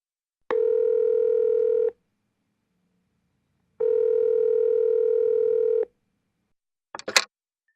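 Two long steady telephone tones sound one after another with a pause between, followed by a brief clicky burst near the end, from an old radio play.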